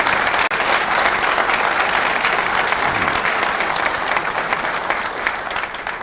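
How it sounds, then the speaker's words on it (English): Audience applause at a swearing-in ceremony, a dense, steady clapping from a crowd that holds strong and then slowly fades toward the end. "So a quick round of applause for all those."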